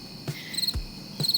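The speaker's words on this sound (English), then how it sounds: "Crickets." Crickets chirping as a comedic sound effect, with high repeated trilling bursts in short rhythmic pulses over a quiet background, fairly faint and with no voices.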